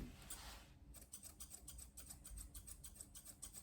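Grooming scissors snip a Cocker Spaniel's coat during a pet trim with show-trim features, a fast run of close, crisp metallic clicks in a steady rhythm, with no talk over them.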